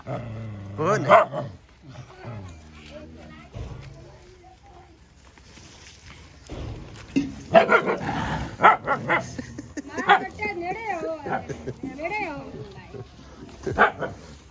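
Dogs bark and yip in short bursts, some near and loud, mixed with whimpers and growls, while people talk over them.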